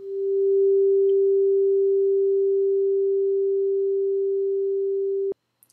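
A synthesizer holds a single steady sine-like tone with decay at maximum, sustaining evenly for about five seconds at moderate loudness before cutting off abruptly, with nothing else around it.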